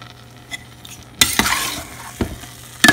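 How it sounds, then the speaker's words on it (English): A sweet potato dessert mixture bubbles at a boil over a barbecue, giving a steady hissing sizzle with a few sharp knocks and clinks nearby. "It has come to boil."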